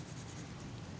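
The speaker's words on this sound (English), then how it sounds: "I'm going to use a lighter touch with my pencil here to do the side views." Graphite pencil shading lightly across paper for the side views of a multiview drawing, a soft, steady scratchy hiss at close range, faint and continuous for about a second with no talk.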